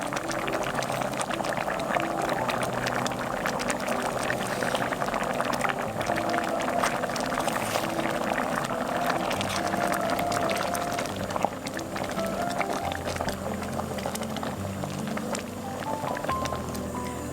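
A pot of perilla seed soup simmers close by, thickened with perilla powder, giving a continuous dense bubbling and popping of boiling liquid throughout, with no voices.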